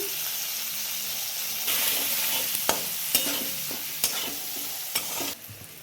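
Green chillies and a spoonful of turmeric powder hit a hot pan with ginger, bringing a sudden rise in close sizzling, then four sharp spatula scrapes against the pan at a steady pace with no talking.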